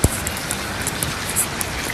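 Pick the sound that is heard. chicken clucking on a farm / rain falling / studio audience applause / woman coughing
rain falling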